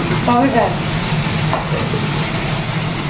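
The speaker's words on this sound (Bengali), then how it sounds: "এই দেখো এখানে এখন পেঁয়াজ বেরেস্তা ভাজা হচ্ছে" Onions deep-frying in oil for beresta in a home kitchen, a loud steady sizzle with stirring scrapes, and a voice briefly murmuring in the background.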